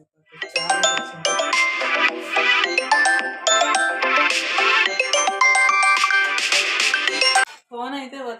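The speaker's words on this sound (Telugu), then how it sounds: "ఫోన్ అయితే వచ్చిందండి" A mobile phone rings loudly with a repeating melodic ringtone that plays continuously for several seconds as an incoming call arrives, then stops, followed by a brief voice.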